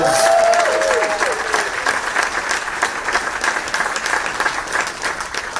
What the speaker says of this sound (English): I think Cobb County deserves a round of applause.